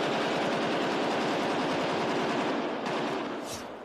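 Loud, sustained burst of rapid gunfire rattling continuously, dense and echoing, from a shooting at a hotel where employees, guests and journalists were present; no talk.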